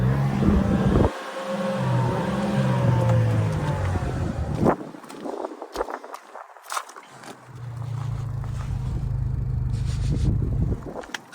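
A 2004 Infiniti G35 RWD idles with a low, steady engine hum, which drops out briefly midway before the running tone returns, accompanied by shuffling and handling noises nearby.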